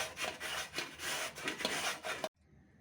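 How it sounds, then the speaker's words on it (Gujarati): Bottle gourd rubbed against a hand grater in a kitchen: a close, rhythmic series of rasping strokes that stops abruptly near the end, leaving near silence. "તો આપણે દૂધીને પહેલાં છીણી નાખીએ."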